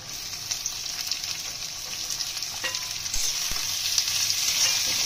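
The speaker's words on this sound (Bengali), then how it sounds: "কাঁচা লঙ্কা ভাজা হয়ে গেছে, পেঁয়াজটা দিয়ে দেবো।" Green chillies and onions sizzle in a pan of hot oil, a steady bright frying hiss that swells slightly louder toward the end, with a few faint clicks of stirring.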